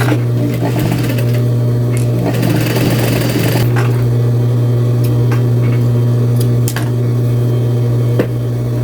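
Sewing machine topstitching fabric, loud close-up motor hum with rapid needle chatter, running in bursts with brief pauses and clicks between.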